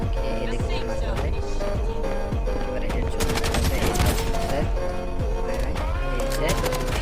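Gunfire in the shooter game Blood Strike: rapid bursts of shots crackle over game sounds, loud and close, with a player talking over the action.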